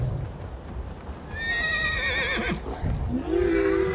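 A white horse in Elder Scrolls Online gives a loud, rising whinny that lasts a couple of seconds, with clip-clopping hooves running under it and a second neigh at the end.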